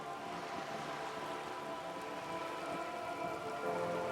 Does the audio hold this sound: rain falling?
yes